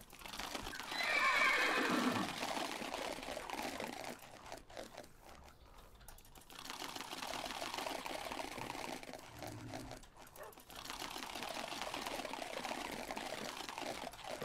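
A horse in the game Minecraft neighs and whinnies loudly at the start, with hoof clip-clops and soft game noises continuing afterward; no talking.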